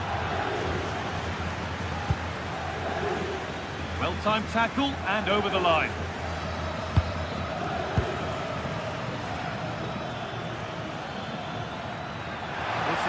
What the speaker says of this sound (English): The crowd certainly think so. Just listen to this noise.